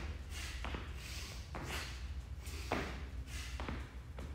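Person doing burpees with rhythmic inhale and exhale breathing, repeated breathy bursts roughly every second mixed with soft thumps of body movement, close and fairly quiet over low background rumble.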